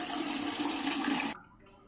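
About a litre to a litre and a half of water pours into a pressure cooker for chicken soup, a loud steady rushing splash that cuts off abruptly after just over a second.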